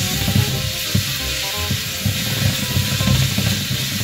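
Garlic fries in a pan with a steady, loud sizzle and hiss throughout, broken by small pops and the scrape of stirring.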